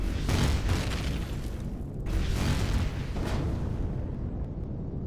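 Deep rumbling booms from an explosion in the video game Empyrion Galactic Survival roll in a few overlapping waves, loud and close, under a constant low roar that slowly settles.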